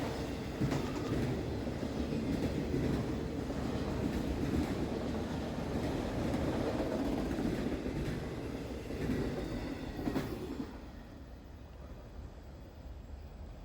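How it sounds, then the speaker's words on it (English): Night freight train on the D&H railroad rolling past close by, a steady loud rumble and clatter of cars that fades toward the end, no talking. "These are all night trains making their way on the D&H."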